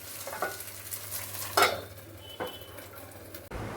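Bora fritters fry quietly in a covered pan, a soft steady sizzle broken by a few clinks and scrapes of utensils, followed by a short rustling bump at the end.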